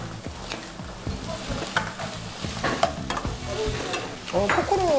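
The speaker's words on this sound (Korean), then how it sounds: "포크로 젓는 건 어떻게 알았어요?" A fork stirs briskly in a bowl or pan, scraping and clinking in a busy, irregular rhythm up close, with a faint sizzle beneath.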